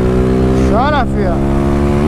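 A modified Honda Fan motorcycle roars loud and close, its engine note sweeping up and dropping sharply at a gear shift before it climbs again.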